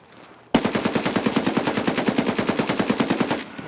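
Rapid full-auto bursts from an AKM rifle in Escape from Tarkov, a steady string of roughly twenty sharp, loud shots at an even rhythm lasting about three seconds, with no talk over it.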